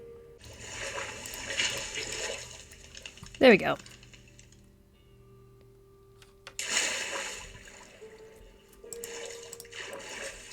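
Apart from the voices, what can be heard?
water pouring down after gravel pillar removed, video game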